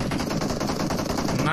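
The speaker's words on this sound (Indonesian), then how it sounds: "Pakai shotgun dia bang." Dense rapid gunfire from a shotgun in a mobile shooter game, a continuous burst of loud blasts under game sound, with faint voices mixed in.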